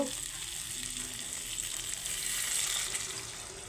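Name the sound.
water poured into frying potato curry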